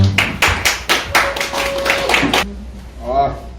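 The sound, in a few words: audience applause welcoming a speaker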